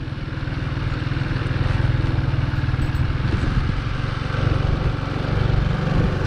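A motorcycle engine runs steadily in second gear with a close, continuous rough throb and mechanical clatter, rising slightly in loudness without speech.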